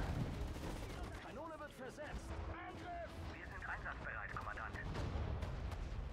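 Gunfire and artillery-like blasts aimed at Soviet tanks in the WWII strategy game Sudden Strike 4, Battle of Stalingrad, a steady busy rumble of shots with mechanical tones over it, no talk.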